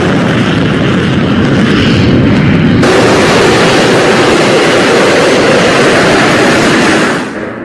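Missile strike explosions at night during the Israel–Iran war, with about 30 missiles fired at once. A loud, sustained roaring blast rumble, dense and broadband, that swells midway and fades at the end, with no voices.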